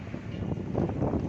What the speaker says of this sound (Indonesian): Angin besar sekitar Pondok Ungu Permai